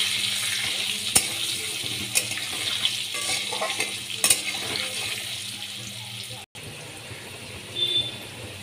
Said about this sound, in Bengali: আলুগুলোকে লাল লাল করে আমি ভেজে নিচ্ছি।